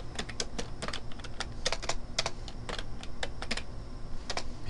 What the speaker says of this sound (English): And if I begin typing here